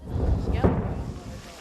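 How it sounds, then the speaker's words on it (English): Outgoing Ukrainian artillery fire near Bakhmut gives a deep, rolling roar, with a brief whooshing surge partway through before it fades into a low rumble. "That's the roar of outgoing Ukrainian fire."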